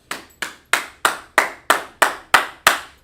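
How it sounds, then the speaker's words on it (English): A small group claps together in slow, evenly spaced unison beats, about nine sharp claps, close and loud with silence between each. "Let's clap it up for that sister, guys."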